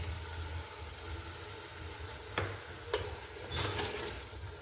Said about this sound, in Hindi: इसके बाद हम इसमें ये 4 चम्मच लहसुन अदरक का पेस्ट है जो हम इसमें शामिल करेंगे।